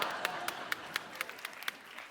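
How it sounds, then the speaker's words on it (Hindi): Audience clapping on a comedy show, a lively patter of claps with sharp individual hits at a quick, fairly regular rhythm, close and moderately loud over a brief stretch. "तालियां!"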